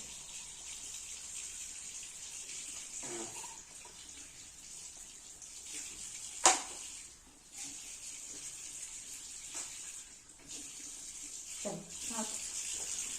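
Water runs steadily from a tap at home, a constant hiss that stays in the background for the whole stretch, with a few clatters and quiet voices over it.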